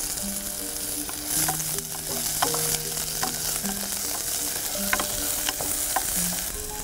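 Garlic and chopped onion sauté in a pan for a doenjang-sauce vegetable rice bowl, a steady bright sizzle with scraping and clinking of a spatula stirring now and then, close and continuous, no talking.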